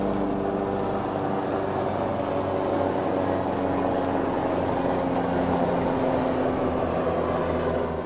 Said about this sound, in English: Not even 6 a.m. and helicopters are out.